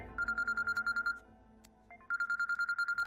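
Telephone ringtone chirping in quick rhythmic pulses, two bursts of trilling rings separated by a brief gap, moderately quiet and without talk.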